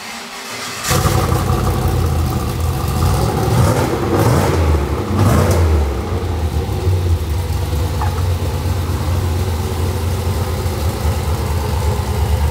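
A Jeep engine catches on a cold start with a loud roar, revs up and down a couple of times, then settles into a steady, rumbling idle close by.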